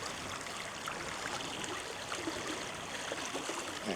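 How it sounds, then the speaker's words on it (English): Fast-flowing water on the small River Arrow rushes and burbles in a steady, broad wash, close by and continuous, with no talk over it. "Bit of fast water."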